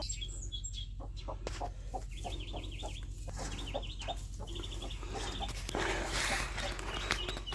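A black hen in a dark coop makes soft repeated clucks and low murmurs against a constant background hum, with faint chirps from other birds and a rustle near the end.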